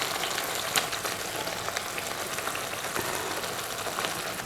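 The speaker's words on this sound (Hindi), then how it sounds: "जब तेल ऊपर आना शुरू हो जाए तो इस टाइम पर हमने उबले हुए आलू डाल देने हैं" Boiled potatoes, broken up by hand, sizzle in hot oil for a potato gravy, a steady, dense frying hiss dotted with small crackles and pops, close and continuous.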